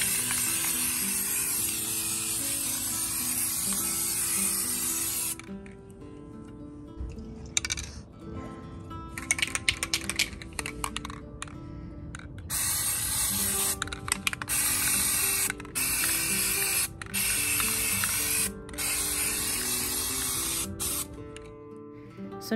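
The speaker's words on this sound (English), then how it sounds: "So the first thing I'm going to do is to spray primer the wooden letters." Spray primer hisses from an aerosol can onto wooden letters in long bursts separated by short pauses and can clicks, close and fairly loud, with no talking.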